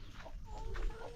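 Chickens cluck close by at a rural home in Laos, a few soft throaty clucks over a low background murmur, with no voices.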